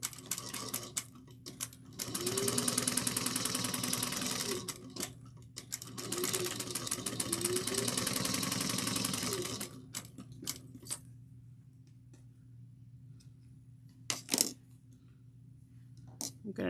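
A sewing machine stitches a tote bag in two long rapid bursts of mechanical chatter, then stops, leaving a quiet hum with a few sharp clicks and a brief clatter.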